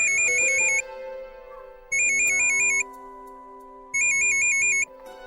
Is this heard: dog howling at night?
no